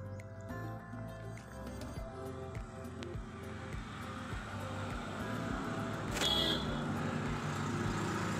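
A car drives on a road near Bhimashankar behind a bus, giving a faint, steady engine and road rumble with a few soft knocks and a brief brighter burst near the end.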